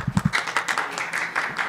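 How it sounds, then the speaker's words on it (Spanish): A single deputy claps alone in a Mexican legislative chamber, several sharp close claps in a quick burst, then fainter background noise. "Bueno, aplaude solito"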